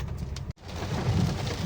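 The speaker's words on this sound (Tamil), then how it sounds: "அவ்வளோ பயங்கரமான மழை பெய்யுதுங்க" Heavy rain drums steadily with a dense, close hiss, broken by a brief dropout near the start, and a low rumble underneath.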